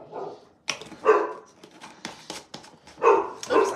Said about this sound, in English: And our dog has to lose his mind.